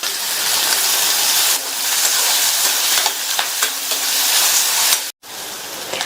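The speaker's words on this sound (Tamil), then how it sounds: "எண்ணெய் சூடானதும் அதில் 2 சின்ன பீஸ் பட்டையும் 1/2 டீஸ்பூன் சோம்பும் சேர்த்து நல்லா பொரிஞ்சதுக்கு அப்புறமா ஒரு பெரிய சைஸ் பெரிய வெங்காயத்தை கட் பண்ணி சேர்க்குறேன்" Sliced onion, along with cinnamon pieces and fennel seeds, sizzles in hot oil in a pan, a loud continuous frying hiss with brief stirring clicks and a sudden cutoff near the end.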